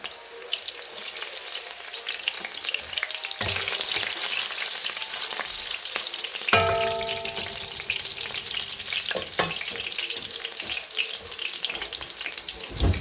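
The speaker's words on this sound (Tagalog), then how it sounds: "Ilagay ko na ang bawang." Garlic fries in hot oil with a continuous crackling sizzle up close, a sudden louder burst of hissing partway through, and occasional stirring clinks, with no talk.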